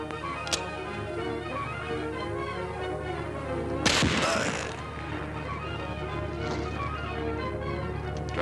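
A warning shot fired in a 1954 film: one sharp loud crack lands midway, set against a steady background hum, with a couple of fainter ticks before and after.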